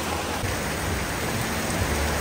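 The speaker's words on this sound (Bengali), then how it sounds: "পাগলের মতো বৃষ্টি হচ্ছে।" Heavy downpour at a rural tea stall in the Chalan Beel wetland, a dense, steady roar of rain close by that fills the whole stretch without a break.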